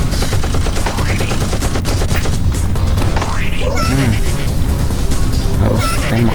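Rapid gunfire from a Roblox prison-escape game, bursts of shots stacked into a loud, dense barrage with booms and impacts throughout, while people talk excitedly over it.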